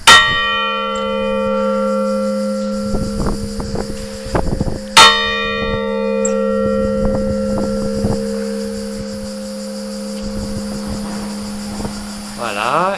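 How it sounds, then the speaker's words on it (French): Church clock bell in the 1866 Fontvieille bell tower struck by its new hammer, two loud ringing strikes a few seconds apart, each leaving a long humming resonance that decays slowly, with handling knocks in between. "Donc voici la cloche qui sonne les heures avec son nouveau marteau"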